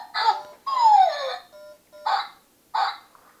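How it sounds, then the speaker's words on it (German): A dog in a home gives several short barks and yips in quick bursts, close and fairly loud, with a longer whining sweep in between and no talk over it. "Du bellst, ich guck dich an und da bellst du sofort."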